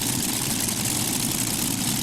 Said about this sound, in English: Team Larsen checking, as he always does, that all the engines are running as they should.